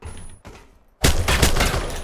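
Gunfire in the survival shooter Dysterra breaks out loud and close after a brief quieter stretch, a dense burst of overlapping shots that fills the second half without any voices.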